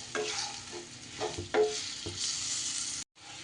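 Taro curry is stirred in a hot pan, with a soft sizzle under several scraping, clattering strokes of a spoon, nearby. The sound breaks off briefly near the end and then resumes.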